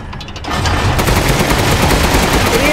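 Sustained automatic machine gun fire in the video game Resident Evil Village, a dense, loud, continuous burst of rapid shots that kicks in after a brief quiet start and runs without pause.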